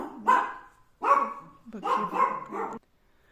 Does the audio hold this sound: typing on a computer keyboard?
no